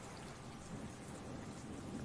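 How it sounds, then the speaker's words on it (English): Rain and thunder ambience, a steady wash of falling rain with a low rumbling undertone, continuous and quiet throughout. "Rain outdoors. Is there rain and thunder?"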